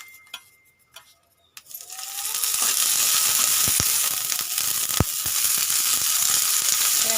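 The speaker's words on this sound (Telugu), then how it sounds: "ఇప్పుడు పచ్చిమిరపకాయలు వేస్తున్నాను. దాంట్లోకి కొంచెం నూనె యాడ్ చేసుకుంటున్నాను." Green chillies dropped into hot oil for a village-style gongura chutney, starting with a few quiet clinks, then breaking into a loud, continuous sizzle and crackle of frying with occasional sharp pops.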